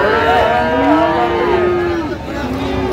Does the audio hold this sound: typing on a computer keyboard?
no